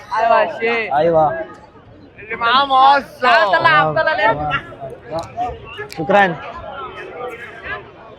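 Crowded Friday market hubbub in Egypt: several voices talk loudly close by over a steady murmur of background chatter.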